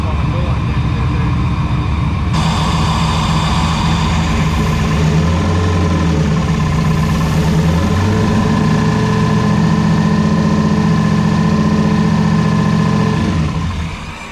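A turbocharged LS engine in an Oldsmobile Cutlass runs loud and steady at a rough idle for most of the stretch, a constant droning rumble that tapers off near the end.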